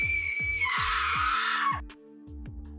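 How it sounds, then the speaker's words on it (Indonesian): A girl screams in a long, shrill, rising cry lasting over a second, set over a repeating rhythmic thumping beat in a dramatized story scene. "Ada teriakan Tesi dari sana."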